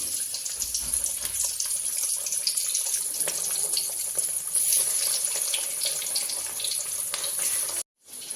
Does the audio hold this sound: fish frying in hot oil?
yes